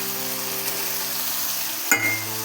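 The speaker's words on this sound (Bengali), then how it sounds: "এবারে চিংড়িটা দিয়ে নেব।" Prawns dropped into a hot pan of sautéed spiced potol (pointed gourd) for a Bengali prawn curry, giving a steady sizzle that swells with a sudden burst of frying near the end.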